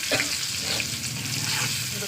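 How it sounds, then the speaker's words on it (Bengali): Pointed gourd (potol) frying in a pan, a steady close sizzle with a soft stirring scrape near the start. "দেখছি পটল ভাজা হচ্ছে"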